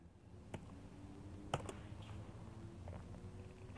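Quiet, sparse clicks of keys on a computer keyboard as text is typed, a few isolated taps with gaps between them against a soft background hiss.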